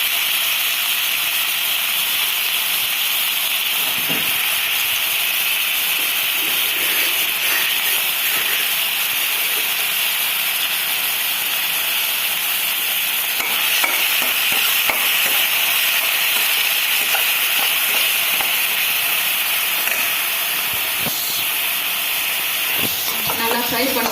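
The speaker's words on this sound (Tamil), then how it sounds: "ஆனியன், பச்சை மிளகாய், இஞ்சி, வெங்காயம், இது எல்லாத்தையுமே ஒன்றா போட்டு ஃப்ரை பண்ணிக்கணும்" Onion, green chili and ginger fry together in a pan with a steady, close hiss and sizzle that runs throughout, broken by occasional faint stirring clicks.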